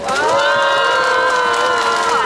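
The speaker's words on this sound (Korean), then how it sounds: "박수 쳐주십시오" A crowd at a 2011 Korean peace rally cheers and applauds steadily for the whole stretch, loud and close, with voices rising over a broad wash of clapping.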